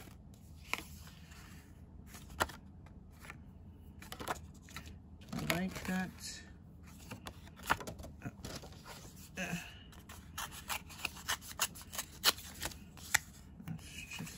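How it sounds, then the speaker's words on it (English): Sheets of paper are handled and shuffled during a random-placement collage session with shells, with soft rustling and rubbing at close range, scattered light taps, and a person talking briefly now and then. "Let's pull another piece of paper."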